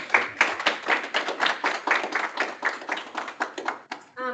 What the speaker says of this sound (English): Have a round of applause.